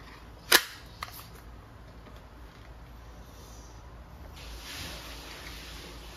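A single sharp pop from an Umarex Glock 17 Gen 3 dual-ammo airgun being test-fired, followed by a faint second click, then quiet room tone.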